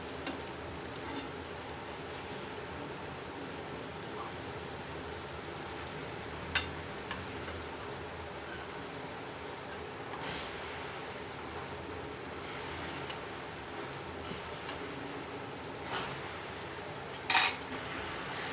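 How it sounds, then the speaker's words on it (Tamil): Eggplant slices roast in a pan with a steady, soft sizzle throughout and an occasional light clink of a utensil against the pan. "இது அப்படியே நம்ம ரோஸ்ட் பண்ணி எடுக்க போகிறோம்."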